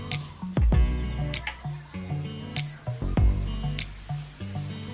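An Olight Warrior Mini 2 flashlight is dunked into water, with a few wet plunges and sloshing splashes followed by lighter dripping and trickling, close up and fairly loud.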